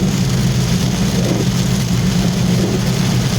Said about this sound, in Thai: อำเภอเมืองจังหวัดศรีสะเกดฝนตกหนักมากๆนะครับ